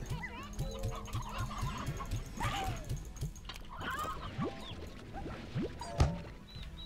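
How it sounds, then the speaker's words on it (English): Hens cluck in the video game Slime Rancher, a run of short rhythmic clucks and chirps over game sound effects, with a sharp thump near the end. "I'm just gonna keep gathering hen hens."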